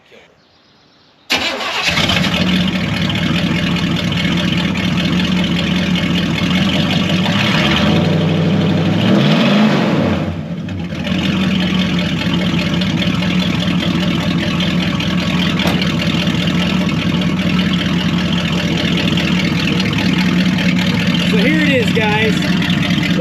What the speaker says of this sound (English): let's get it bolted on the car and hear what this thing sounds like.